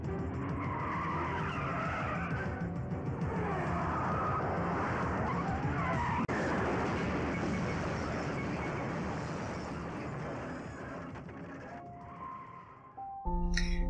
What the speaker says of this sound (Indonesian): Kemudian Abai langsung mengejar mobil itu.